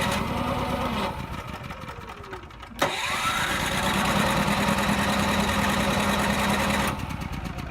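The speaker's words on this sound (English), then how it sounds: "If the generator is cold, all you need to do is hit the choke in, make sure that your fuel line is on, push and hold this button up to start it." A travel trailer's onboard generator cranks, catches with a sharp start, then runs at a steady mid-pitched hum, close and loud, with no talk.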